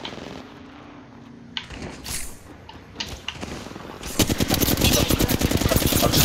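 Rapid automatic gunfire from an Apex Legends match, loud bursts that build to a dense, continuous volley in the last two seconds, preceded by scattered shots and game sounds.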